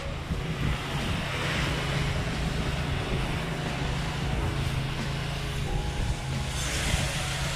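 Pressure washer spray rinsing stucco on a house, a steady loud hiss with wind-like roar that continues throughout, no talk.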